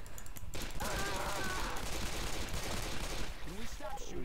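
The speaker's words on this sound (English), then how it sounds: "Can we stop shooting each other?" Rapid bursts of gunfire in the zombie shooter Left 4 Dead 2 rattle through a dense, loud game mix, with players talking over the shooting.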